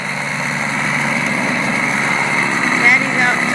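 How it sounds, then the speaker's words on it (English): A small, cheap snow blower engine runs during a snowstorm, giving a steady, mid-distance buzzing drone that holds throughout, with a brief rise in intensity near the end. "Daddy's out snow blowing with our rinky-dink snow blower"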